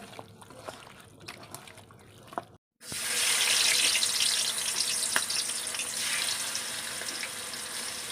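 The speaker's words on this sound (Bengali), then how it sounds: "কড়াটার মধ্যে মুরগি ভাজি" Chicken frying in oil in a kadai, a steady broad sizzle that jumps louder after a brief gap and then holds, with fainter frying and clatter before the gap.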